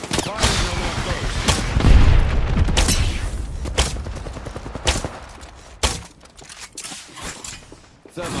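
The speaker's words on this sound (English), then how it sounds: "Firing on our foes." Bursts of video game gunfire and booms crackle across a Valorant esports match shown at a watch party, with several sharp shots, a steady rumble and a loud crack near the end, under crowd or caster noise.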